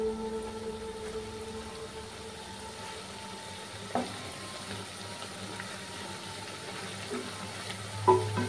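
Carrot dahi vada frying in hot oil, a continuous gentle sizzle and bubbling with a couple of brief clinks or stirs, close and moderately quiet, no talk.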